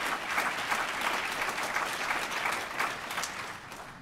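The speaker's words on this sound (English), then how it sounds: "I think we should applaud that." Audience applause fills a lecture hall, a steady wash of clapping from many hands that holds evenly for about four seconds before easing slightly at the end.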